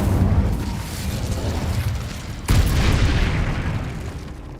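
Incendio fire spell cast in Hogwarts Legacy, a loud sustained fiery roar with a sharp burst surging midway, no talking.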